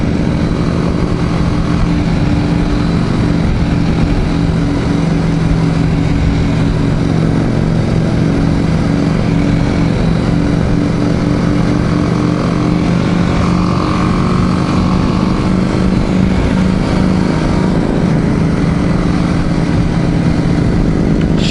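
A BMW G310GS motorcycle engine runs steadily, a loud continuous single-cylinder drone with a rough, buzzing texture throughout, close by and unbroken.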